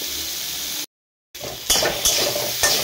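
Chalta pickle with a little turmeric is stirred in a frying pan, with a light sizzle and a few scraping strokes of the spoon against the pan. The sound runs close, breaks off in a brief gap, then comes back.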